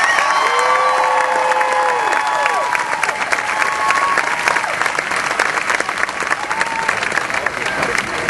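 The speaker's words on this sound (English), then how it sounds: "Please join me in a warm round of applause for our salutatorian." Outdoor high school graduation crowd applauds the salutatorian at the 2012 ceremony: steady, loud massed clapping with scattered cheers and whoops, continuing throughout at close range.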